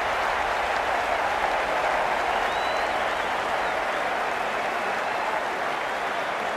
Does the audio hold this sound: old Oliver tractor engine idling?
no